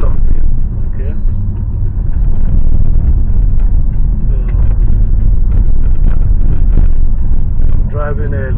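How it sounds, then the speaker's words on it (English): A car drives along a local road through a city, its engine and road noise a steady, loud low rumble throughout, with a person talking over it. "Driving a little bit through the city, not directly through the city, but the local road through the city"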